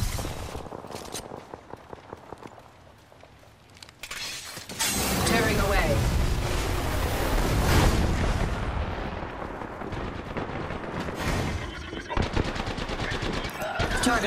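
Heavy gunfire in a video game's battle royale-style match, with dense continuous bursts and loud explosive blasts that fill most of the clip, under game voice callouts.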